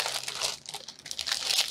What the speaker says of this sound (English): Sorry about all the crinkling.